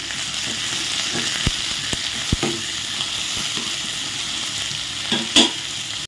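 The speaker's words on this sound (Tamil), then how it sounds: "இந்த வெங்காயம் சீக்கிரமாக வரங்கிறதுக்கு தேவையான அளவு சால்ட் வெங்காயம் மட்டும் கொஞ்சம் சீக்கிரமாக வதங்கிடும்" Onions with salt sautéing in a pan, a continuous close crackling sizzle with occasional stirring knocks and scrapes against the pan, no talking.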